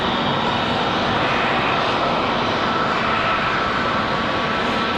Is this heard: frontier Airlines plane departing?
yes